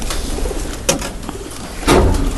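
Pigeons at a farm or livestock yard give low, soft coos under steady background noise, with two louder bird bursts about a second apart.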